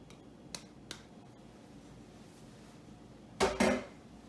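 Cinnamon bun filling of cinnamon is stirred in a bowl, giving a few faint, sharp clicks of utensil on dish before two louder, close scraping clinks near the end.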